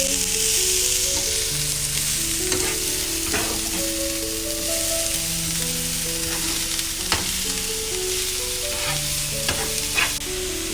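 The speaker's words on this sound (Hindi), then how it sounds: "अभी हम इसको अच्छे से मिक्स करते हुए पका लेंगे।" A spring roll vegetable filling of mixed vegetables seasoned with salt is stir-fried in a pan, producing a loud continuous sizzle with occasional scraping stirs beneath a steady melodic music bed.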